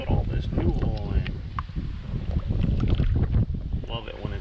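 Steady gusty wind buffets the microphone with low rumbling roar during an outdoor oil change on a Buick Enclave, while a voice talks over it throughout.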